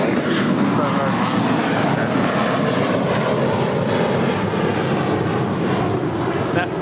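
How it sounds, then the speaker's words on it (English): An American Airlines jet departing LAX for Boston, a steady loud roar of jet engines on takeoff that holds throughout with some wind buffeting, a voice faintly present. "That departure was American 2110 departing to Boston"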